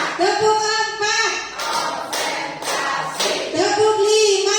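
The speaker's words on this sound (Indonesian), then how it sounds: "Nanti kita akan melakukan tepuk semangat nih Bapak Ibu" A group of school staff claps a rhythmic spirited chant in bursts, sharp rapid clapping alternating with loud unison voices calling out between the clap sections.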